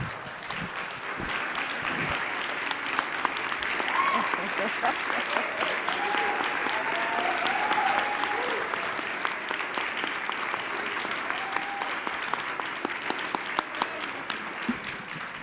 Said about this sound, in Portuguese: Queria que todos recebessem ela de pé, com o aplauso que ela merece.